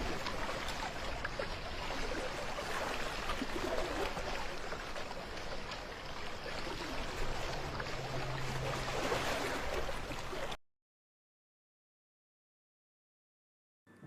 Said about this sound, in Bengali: শহরের রাস্তায়ও বোট চালাইতে হইতাছে, চারিদিকে পানি আর পানি